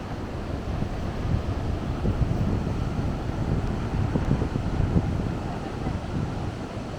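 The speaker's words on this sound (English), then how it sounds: "Oh, the rain really filled the river." A river swollen by rain gives a continuous broadband rush of fast water, steady and fairly loud throughout with no talk.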